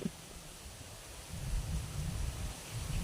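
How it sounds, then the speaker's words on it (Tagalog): Strong wind blowing outdoors in a rural area, a steady low rumbling gust noise buffeting the microphone, swelling louder after the first second and staying continuous throughout. "grabe lakas ng hangin"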